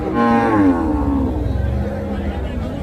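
Cattle bellowing at a busy livestock market: one loud, close, drawn-out moo falls in pitch over about two seconds, with crowd noise and low rumbling beneath it.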